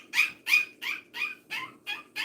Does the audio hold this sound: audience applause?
no